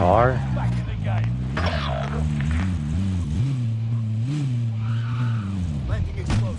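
A car in a Call of Duty–style battle royale match skids with wavering, squealing tire noise over a steady engine drone, close and continuous, while a person talks over it.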